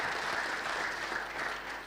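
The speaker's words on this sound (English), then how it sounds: "I think we need to clap for ourselves" Applause from an audience at a company's tenth anniversary celebration in Kenya, a dense steady wash of many hands clapping, fairly distant and unbroken, with no voices over it.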